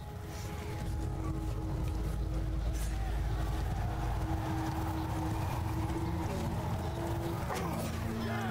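Galloping hooves of horse archers in Mount & Blade II: Bannerlord pound in a steady, continuous rumble of clip-clop under battle noise and faint tonal game sounds, moderately loud throughout.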